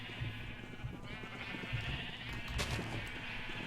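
Several short bleats from Minecraft sheep rise over a constant low hum and soft ambience, moderately faint, with no talk.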